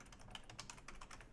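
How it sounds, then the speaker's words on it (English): Rapid, steady typing on a computer keyboard, close and fairly faint, with crisp irregular keystrokes and no voices. "I'll type it in chat real quick"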